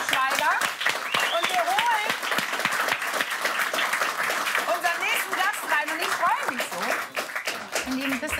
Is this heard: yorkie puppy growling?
no